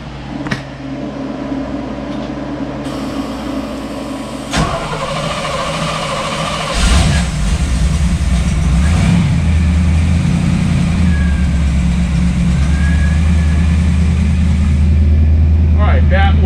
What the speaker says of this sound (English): All right, that was the port engine.